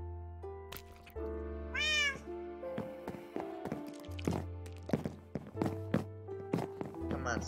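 A video game cat meows a few times, mixed with tapping, thunking footstep-like game effects over a tonal background; a voice briefly speaks.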